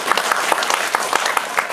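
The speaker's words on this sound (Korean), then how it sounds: "큰 박수 부탁드릴게요" A cinema audience at a film screening Q&A breaks into dense, steady applause, many hands clapping at once close by for under two seconds, with no talking over it.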